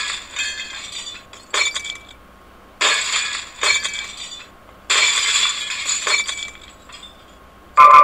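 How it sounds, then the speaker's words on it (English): Glass breaking in the Happy Wheels video game, a series of sharp shattering crashes and clinks in repeated bursts separated by brief pauses, fairly loud and with no voices over them. "Glass breaker."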